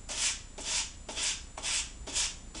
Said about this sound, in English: sand down the edges